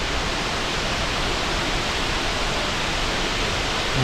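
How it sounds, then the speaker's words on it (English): A waterfall near Flåm, Norway roars as a dense, steady rush of falling water, loud and unbroken across the whole span with no voices. "Here's a little bit better look at the waterfall."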